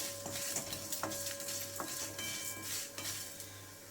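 Curry leaves and asafoetida sizzle in a pan on a low flame for rasam, a steady soft frying hiss broken by a few sharp clinks of a spoon against the pan, with no voices.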